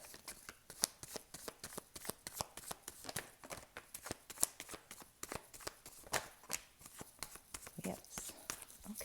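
Tarot cards being shuffled by hand, a quiet, close run of rapid papery riffles and soft flicks repeating steadily, with faint room tone between strokes.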